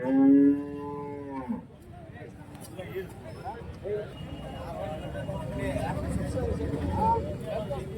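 Cows at an Andhra Pradesh cattle market for dairy and pregnant cattle, one loud nearby moo opening the scene before a busy backdrop of crowd chatter, people talking and general market noise.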